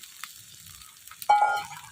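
Fried hilsa pieces go into a pan of mustard-paste gravy with ginger and green chilli, setting off a sudden burst of sizzling after quiet cooking, loud for a moment and then slowly easing back.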